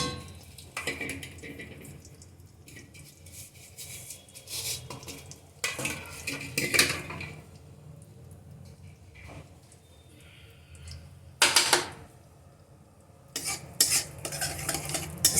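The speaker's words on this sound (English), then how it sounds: "now it's time to roast our cashew nuts, that is kaju" Cashew nuts roasting in ghee in a pan while being stirred, giving a near, steady scraping and clinking of a utensil against the pan in bursts, with a low sizzle between them and no talk.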